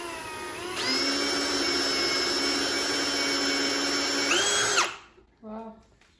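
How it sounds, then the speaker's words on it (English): A pumpkin being bored with a big round drill bit, a loud steady power-drill whine that holds for several seconds, shifts pitch near the end, then winds down and stops, followed by a short quieter burst. "you're gonna need one of these big round drill bits"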